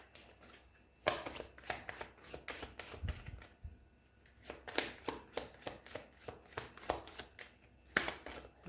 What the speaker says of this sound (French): on mélange un petit peu les cartes pour ce mois d'août